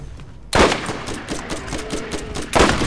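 Gunfire in the Borderlands shooter game: two heavy, loud shots about two seconds apart, with a rapid patter of lighter shots between them and no voices.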